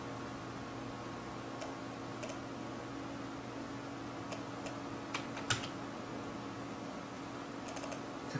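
Quiet, sparse keystrokes on a computer keyboard, a few light clicks scattered over a faint steady hum, with one slightly louder tap near the end.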